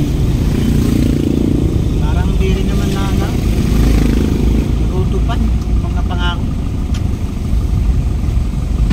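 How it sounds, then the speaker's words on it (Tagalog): Continuous road traffic noise with motorcycles and cars idling and passing nearby, a dense steady rumble with engine buzz, while a person talks over it. "Traffic."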